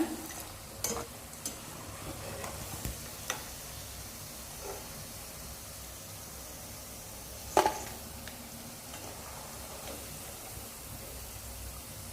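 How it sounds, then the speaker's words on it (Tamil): Semolina pakoda deep-frying in oil over a low flame gives a faint, steady sizzle throughout, broken by a few soft clicks and one brief sharper knock near the middle. "அடுப்பை வந்து கம்மியாக வச்சு நல்லா பொரிச்சு எடுத்துருங்க"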